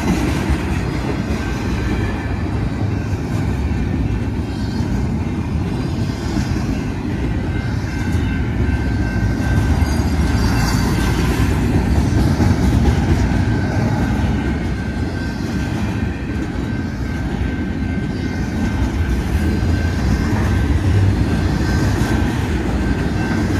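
A northbound BNSF manifest freight train led by an AC44C4M locomotive rolls past close by with a loud, steady roar and rumble of wheels and cars, sustained throughout with a faint high squeal.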